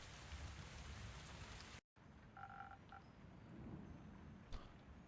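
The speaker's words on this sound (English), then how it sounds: "Looking pretty stormy out there, Reno." Steady rain pours outside during a storm in the tavern game Tavern Talk, a dense hiss that cuts out briefly, then returns with faint croaking tones and a distant crackle.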